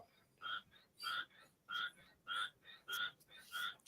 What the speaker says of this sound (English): I do hear the frogs, Joe.